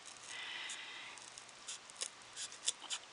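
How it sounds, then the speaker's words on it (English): A craft knife scores the top layer of material in a quiet, close scraping stroke, followed by a few short, sharp cutting rasps near the end. "I take the craft knife and I cut not all the way through"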